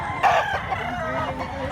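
A fighting rooster crows loudly and close by at a market in Mantalungon, Cebu, one drawn-out call with faint clucking underneath.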